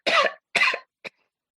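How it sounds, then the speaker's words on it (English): A person coughs twice close and loud, then gives a short throat-clearing hack, with silence between bursts. "You should get that cough checked."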